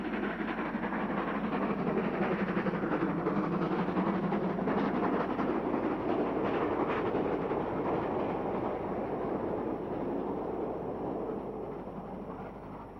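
A South African Class 15CA steam locomotive, number 2054, hauls a freight pickup train at Driehoek, its steady rumbling roar and rolling wagon noise loud and continuous throughout, easing off slightly at the end.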